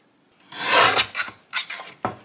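Card stock or pearl vinyl is sliced on a paper trimmer, a close rasping slide followed by several shorter scraping strokes, with no talking.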